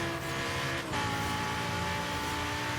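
A Lamborghini Huracan with full exhaust and intake upgrades drives in Forza Horizon 3, its engine droning at a steady high pitch under faint tire noise, with a short swell partway through and no talk.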